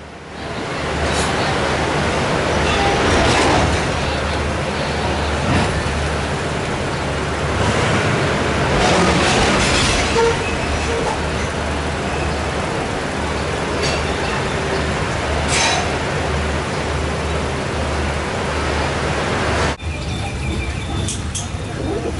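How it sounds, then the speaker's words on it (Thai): Steady broadband rumble of a train departing Hat Yai Junction station, Thailand, on the Hat Yai–Surat service, with low rail drone and rattling carriages throughout, fairly loud and continuous. "รถไฟกำลังออกจากสถานีชุมทางหัดใหญ่ครับ"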